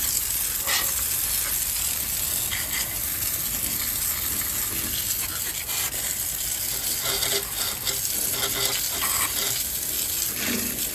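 A garden hose sprays water into a drain sump while fat is cleared out, a steady loud hissing rush with spattering that runs unbroken throughout.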